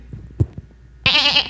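Sheep bleating close by, a short wavering bleat after a few soft knocks and shuffles, loud and alone.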